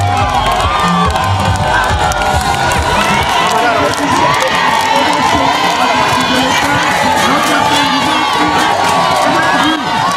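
A large crowd at a municipal stadium in Niamtougou cheers and shouts loudly and continuously to welcome an election candidate, with whoops, children's shouts and voices blending into a dense roar.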